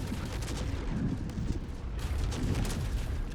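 Explosions and fire burst across a field in Baldur's Gate 3, a dense, continuous rumble of booms and crackling blasts layered together, loud and close with no pause throughout.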